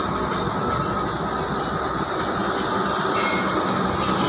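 A passenger train of Indonesia's KAI, likely hauled by a CC203 diesel locomotive, rolls past a station loudly and continuously, a dense roar of wheels and rattling cars with a high metallic squeal near the end.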